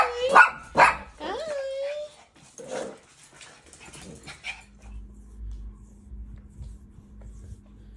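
Maltese puppies bark sharply a few times close to the microphone, then give softer yips and whimpers before a low steady hum takes over indoors.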